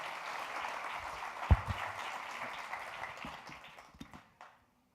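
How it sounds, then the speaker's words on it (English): Conference audience applauds a speaker in a hall, a steady wash of clapping that thins out and fades toward the end, with a few louder claps near the middle. "let's give a good warm round of applause to Mike"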